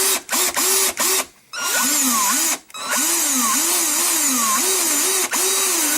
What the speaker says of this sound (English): don't use the power drill near any gas leaks or anything.